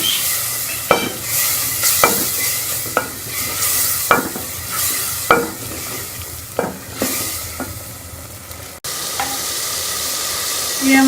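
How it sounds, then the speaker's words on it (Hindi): Spices fried and stirred in a pan for aloo baingan sabzi: a loud, constant sizzle with about seven regular scrapes of the spoon against the pan, then a brief cut before frying resumes. "ये सारे मसाले हम इसके अंदर डाल देंगे और इसको मसाले को अच्छी तरह हम भून लेंगे।"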